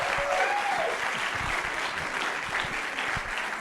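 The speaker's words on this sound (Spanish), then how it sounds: "Dense el aplauso." A room of audiobook narrators at a narrators' meeting gives sustained applause. The clapping is steady and moderately loud, with faint voices scattered beneath it.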